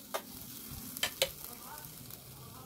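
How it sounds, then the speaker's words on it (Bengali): Mango pulp frying in a pan for mango sandesh gives a faint, low sizzle, with a few short scraping clicks from a spoon stirring it, close and quiet, with no voices. "এবারে এই আমের পাল্পটা আমি দেব। মোটামুটি এই চামচে 2 চামচ মতন। এবারে এটাকে আমি খুব ভালো করে ভাজবো।"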